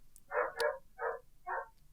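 Dexter the dog barking indoors, three short, sharp barks in quick succession, fairly close and clear against a quiet background.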